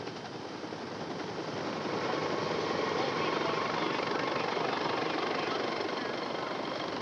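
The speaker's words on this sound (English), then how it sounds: "A nearby golf course became the landing zone for the Lifeline helicopter" A Lifeline medical helicopter setting down on a golf course used as a landing zone, its rotor roar loud and dense, building slightly and holding steady throughout.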